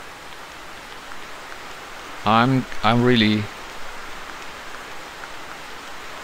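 Rain hisses steadily across the outdoor hunting grounds of the 2013 game The Hunter, a constant soft wash of drops with someone briefly speaking over it midway.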